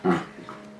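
A dog makes odd vocal noises, a short loud growly whine followed by quieter whimpering sounds, close by and alone.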